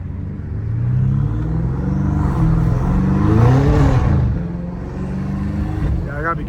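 A BMW M5 Competition revving as it drifts on a wet road in the rain, a loud close engine roar that rises and falls, with a voice talking over it.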